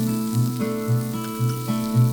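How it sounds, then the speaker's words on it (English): Chopped garlic, ginger and onion sautéing in a couple of teaspoons of oil, a steady close sizzle with soft periodic stirring and a faint tonal hum underneath. "Saute for about a minute."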